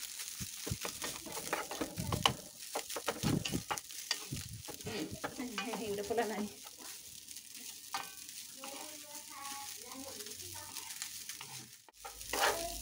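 Rice being stirred as it fries in a pan for Chinese-style fried rice, a steady sizzle broken by repeated scraping stirs, close and fairly loud, with no talking.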